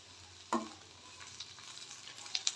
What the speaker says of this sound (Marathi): त्यामध्ये मी थोडा कढीपत्ता टाकते